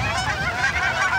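Resident geese honking in a park, a continuous overlapping chorus of loud, nasal honks from several birds close by.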